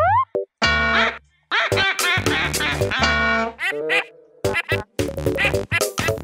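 The cartoon duck from Pocoyo quacks in a rapid series of loud, nasal, cartoonish calls with short pauses, a second duck joining in like an echo.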